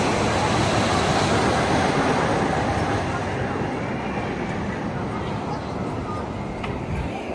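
The Viper roller coaster at Six Flags Great America plunging down its drop, a loud rushing rumble of the train that is strongest at first and slowly eases off, with crowd noise behind it.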